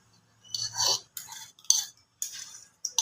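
Spoon stirring whisked yogurt into a chicken biryani marinade, a few close, separate bursts of scraping and clinking against the pot.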